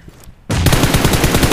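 Rapid automatic gunfire from a weapon in the mobile shooter PUBG Mobile, bursting in loud and sustained after a short quiet lead-in, shots rattling in a fast continuous stream.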